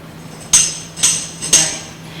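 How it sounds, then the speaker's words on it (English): A tambourine is tapped against a knee three times at an even pace, each hit giving a sharp thump with a bright jingle of metal zils. The strikes are close and clear over a quiet room. "And Joey is playing the tambourine, which I'm sure most people recognize."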